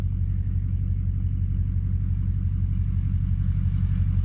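A 350 truck engine idles steadily while warming up on a frosty morning, a deep continuous low rumble close by with no voices over it.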